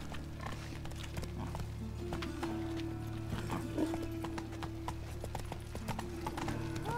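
Horse hooves clip-clopping at a steady gallop in The Witcher 3 video game, a continuous rhythmic pounding over game ambience and low music, with an occasional whinny.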